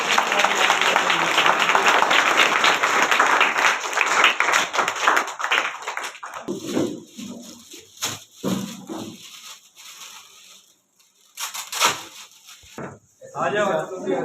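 Audience clapping at an SSB certificate ceremony for a Mithila painting program, where women are honored with shawls: dense, loud applause for about six seconds, then fading into scattered voices and talk.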